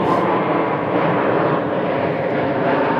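Southwest airliners landing at Phoenix airport with their landing gear down, a steady loud broadband engine roar sustained throughout with no break and no talk.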